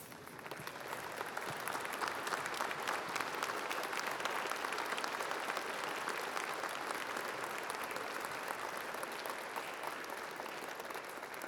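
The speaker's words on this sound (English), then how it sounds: "Let's stand up and give these guys a round of applause." Audience at a high school football banquet applauding, a steady, fairly distant burst of clapping that lasts throughout with no talk over it.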